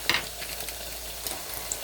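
Small pieces of pork fry with garlic, onion, ginger and chili flakes, giving a soft, steady sizzle broken by a few sharp crackles and light stirring clinks close to the pan.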